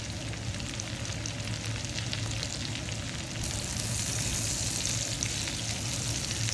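Garlic and onion sautéing for spaghetti sauce give a steady, close sizzle and crackle in hot oil, brightening partway through as more goes into the pan, with no talking.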